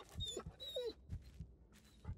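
An injured dog whimpers in the Blair Witch video game, several short, close whines and rising yelps in quick succession, with low thuds of footsteps underneath and no talking.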